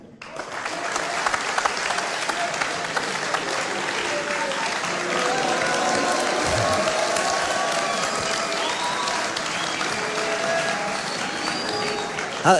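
Steady, dense applause from a television studio audience greeting a singer, a full crowd clapping continuously with some cheering mixed in, sustained at an even, loud level throughout.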